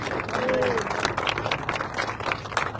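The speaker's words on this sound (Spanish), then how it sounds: "un aplauso para Lupita" Crowd applause at a political caravan rally in Guatemala, moderately loud clapping and crowd noise with scattered voices and a short whistle-like tone early on.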